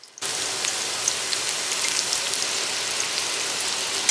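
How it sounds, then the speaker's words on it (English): Fish shallow frying in hot oil over medium heat, a steady close hiss and dense crackle of sizzling that starts abruptly and holds loud and even, with a few brighter pops. "Now I'm ready to shallow fry, and I'm using medium heat. I'm gonna add my fish now that my oil is nice and hot."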